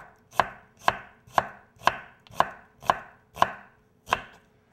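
A knife chops through tomatoes on a cutting board for a fresh salad, eight crisp, evenly spaced strokes in a steady rhythm, close and clear with nothing else heard.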